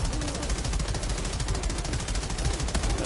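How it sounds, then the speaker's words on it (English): Sustained rapid gunfire in the shooter video game Outriders, dense automatic bursts that run loud and steady throughout with no pauses. "But he's shooting from the back."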